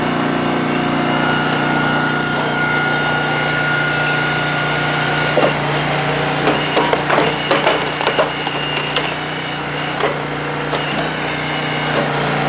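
A hydraulic log splitter's small engine drones loud and steady nearby while a log is pushed through, with cracking and splintering wood sounds as the piece breaks apart.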